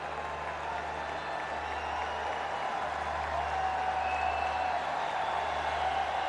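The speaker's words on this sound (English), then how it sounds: "The local boy gets a huge cheer from the crowd." Cricket crowd at a Pakistan vs West Indies one-day international cheering and applauding as Imam-ul-Haq reaches a half century, a steady broad roar of stadium noise lasting throughout at even, moderate loudness.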